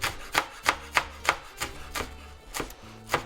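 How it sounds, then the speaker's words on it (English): A knife chops green onion on a board in a steady run of about a dozen crisp, close knocks, with no talking. "And then we'll set this aside and cut our green onion."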